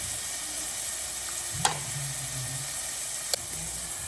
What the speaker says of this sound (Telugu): ఇప్పుడు ఉల్లిపాయ పచ్చిమిరపకాయ ముక్కలు వేస్తున్నాను చూడండి